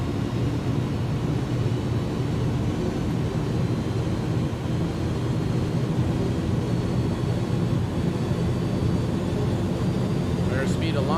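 Airbus A310 jet engines spooling at takeoff thrust in X-Plane 11, a steady, loud broadband roar that stays constant throughout, with a brief rising whine near the end.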